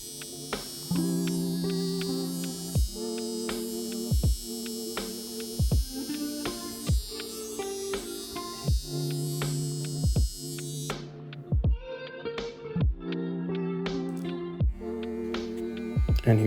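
Electric hair clippers with a number 5 guard and lever closed buzz steadily during a self-cut burst fade, the motor hum broken by repeated rhythmic strokes as the clipper passes through hair, close and continuous.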